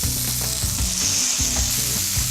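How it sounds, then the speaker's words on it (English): Adobo chicken and pepper skewers sizzling in a hot pan, a steady, loud frying hiss close by, with faint stirring or shifting sounds and no talking. "listen to that sizzle"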